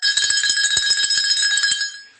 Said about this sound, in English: let me get my bell